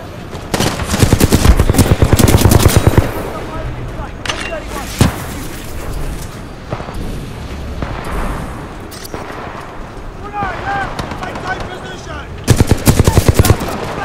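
Burst-fire weapon shooting in Titanfall 2, loud rapid volleys near the start and end with quieter game sounds and scattered shots between them.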